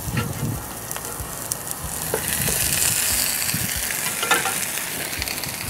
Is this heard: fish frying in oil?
yes